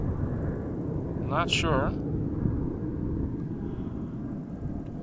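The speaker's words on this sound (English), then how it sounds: "Now flying north of me. I would say it looks like a Dreamliner based on the shape of the wings" A Boeing 787 Dreamliner flies overhead near Amsterdam Schiphol Airport, a steady, fairly distant jet rumble with a brief spoken remark over it.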